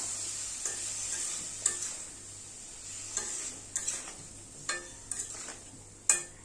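Fish curry spices with turmeric and a little water are stir-fried in a pan for a rohu curry with potato and eggplant: a constant soft sizzle broken by several sharp spatula scrapes and taps against the pan.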